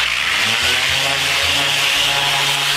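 Steady, loud grinding drone of a power sander working a concrete countertop, continuous without pause and with no voices.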